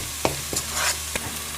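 Quorn curry being stirred and roasted in a pan: a short burst of soft sizzling under a few quick scraping spoon strokes against the pan, close and moderately loud, without speech.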